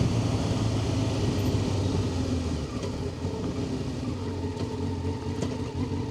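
A Honda CBR600F motorcycle engine revs and rumbles on the road, a continuous low throaty drone with slight rises in pitch, loud and close, with no voices over it.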